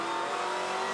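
V8 touring car racing at Pukekohe, its engine loud and close as it revs continuously through short-shifted gears, one unbroken onboard roar with no talk.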